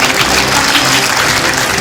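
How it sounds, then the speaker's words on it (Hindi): Loud, dense applause from a crowd at a Hindi-language public event, held for Avinash Chawla, a continuous wash of clapping with no break. "एक जोरदार ताली होनी चाहिए अविनाश चावला के लिए,"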